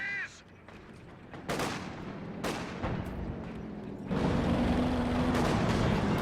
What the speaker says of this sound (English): Jaeger Lights do a few snipes with their G43